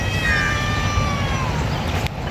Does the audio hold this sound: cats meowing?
yes